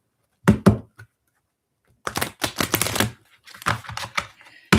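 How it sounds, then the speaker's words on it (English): Tarot cards being shuffled by hand, with a short riffle early on and then a longer run of brisk, papery flicks and taps in quick irregular bursts, close and fairly loud with no talk. "I got to shuffle"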